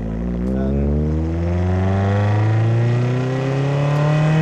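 A Lotus Elise sports car accelerates hard, its engine note climbing steadily in pitch, loud and close, with no voices over it.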